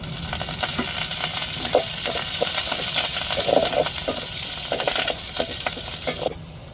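Curry leaves crackle and sizzle in hot oil with a dense, steady hiss and scattered pops, close and loud, fading slightly at the very end, with no talking.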